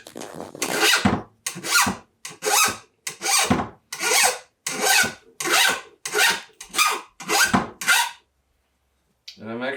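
A hand file rasps along a chainsaw bar, smoothing its worn lip with about ten steady, evenly spaced close strokes and a brief pause near the end.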